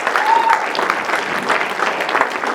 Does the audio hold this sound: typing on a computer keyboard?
no